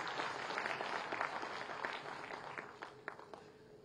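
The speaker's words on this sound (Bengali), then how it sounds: "একটু জোরে করতালি আশা করব" Faint, distant applause from an audience at a government job-offer ceremony in Tripura, scattered claps that thin out toward the end.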